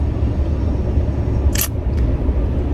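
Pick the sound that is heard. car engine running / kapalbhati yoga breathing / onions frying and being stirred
car engine running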